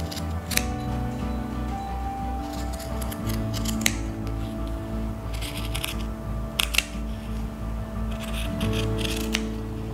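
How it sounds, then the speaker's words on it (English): Scissors snip through two layers of stretchy fabric in a series of crisp cuts, close and clear, over a low steady background hum. "I am gonna go ahead and cut through both layers."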